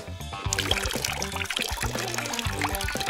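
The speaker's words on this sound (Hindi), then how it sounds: "पहले आप इसमें पानी डालेंगे" Water poured into a container for a children's colour experiment at home, a steady trickling and splashing stream running throughout, close and fairly loud, with a short quiet moment at the start.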